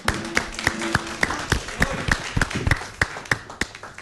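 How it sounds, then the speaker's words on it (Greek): A small group applauding for Katerina, steady separate hand claps in a loose rhythm, close and moderately loud, with little talk. "Ένα χειροκρότημα για την Κατερίνα,"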